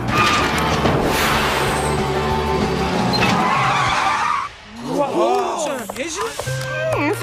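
A scooter skids in a Monster High cartoon with a sharp tire squeal over engine noise and background music, followed by bending, swooping squeals; voices are present.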